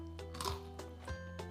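Crispy pork belly is bitten and chewed close up, giving a few sharp crunches spaced across a second or so, with soft mouth sounds between them and no talking.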